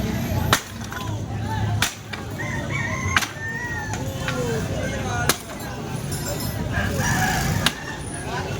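Fighting cocks crow repeatedly amid a busy outdoor din in a Manila neighborhood, with sharp claps or snaps punctuating the scene and voices in the background.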